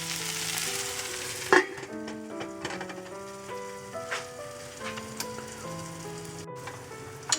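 Okra and onions frying in a covered pan, a steady soft sizzle and crackle throughout, with a lid clatter near the start and occasional light pops, quiet and close with no voices.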